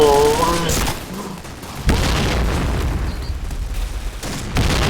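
A voice at the start, then a sudden heavy boom followed by rumbling blasts and crackling gunfire-like bursts from a video game, loud throughout.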